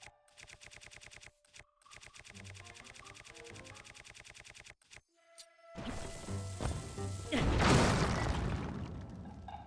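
In Zelda: Tears of the Kingdom, a rapid, rattling run of mechanical bursts gives way to a loud bomb blast that swells into crackling, rumbling debris noise and slowly fades.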